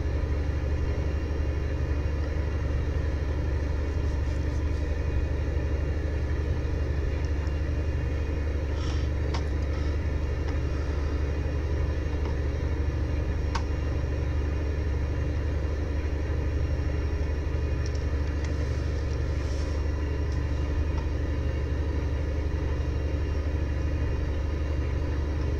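A heavy vehicle with an oversized exhaust idles nearby, putting out a deep, steady, even rumble that holds unchanged for about twenty-five seconds, with a few faint clicks on top and no talking.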